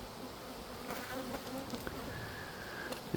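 Honey bees hum steadily at close range during an open hive inspection, a continuous soft drone with a few louder individual buzzes passing by.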